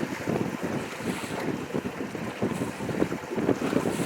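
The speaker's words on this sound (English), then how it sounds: "the boat gets up on top of these waves and cuts right through them" A fishing boat with a Suzuki motor slaps and rushes through choppy lake water on Lake Barkley, with buffeting wind noise on the microphone throughout.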